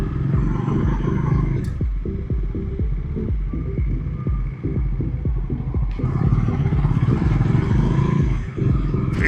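A 2025 Bajaj Dominar 400 motorcycle cruising in fourth gear, its engine a steady, loud, throbbing hum with continuous low pulsing throughout and slight surges in intensity.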